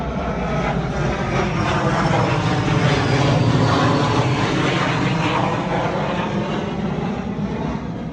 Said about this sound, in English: Got a plane flying over.